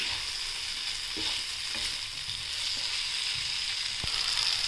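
Large-cut potatoes with curry leaves sautéing in hot oil for a potato rassa bhaji, a steady close sizzle with occasional soft stirring knocks of a spoon against the pan.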